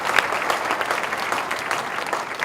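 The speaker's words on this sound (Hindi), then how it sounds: "जोरदार तालियां बजाएं" A church congregation applauds loudly, dense steady clapping from many hands filling the room with a crowd wash and no clear speech.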